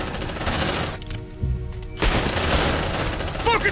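A sentry gun opens fire in the sci-fi game Aliens Dark Descent, sustained loud automatic bursts with a short lull in the middle, mixed with game effects and brief voice callouts.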